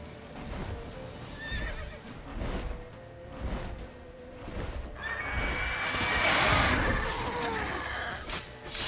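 Roach, a horse in the Witcher 3 video game, whinnies sharply and gallops with rapid hoofbeats that swell louder toward the end, mixed with game sound effects.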